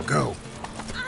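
Roach the horse galloping in The Witcher 3 video game, with a whinny and quick hoof clops heard briefly under a voice talking over it.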